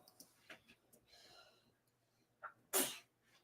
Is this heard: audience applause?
no